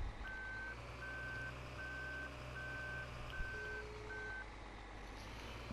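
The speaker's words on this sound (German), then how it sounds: "Springen da rüber in unseren Futtermischwagen." A feed mixer wagon in the farming game Farming Simulator 15 sounds a steady series of six evenly spaced reversing beeps over a low, constant engine drone, fairly faint.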